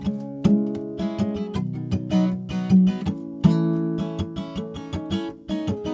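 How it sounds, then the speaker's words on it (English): Palm-muted acoustic guitar strumming in a steady rhythmic pattern, with short, damped chords played up close and no voices. "we're just gonna palm mute it, so it's gonna sound like this"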